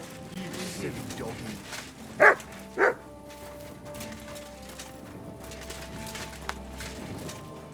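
Two short, sharp dog barks ring out in quick succession in the medieval game Kingdom Come: Deliverance II, standing clearly above a low ambient hum.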